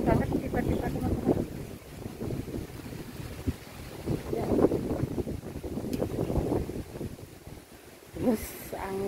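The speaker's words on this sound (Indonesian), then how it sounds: "Angin kencang banget tiba-tiba" Strong gusts of wind buffet the microphone in an outdoor park, rising and falling in rough, rumbling surges, with people talking faintly in the background.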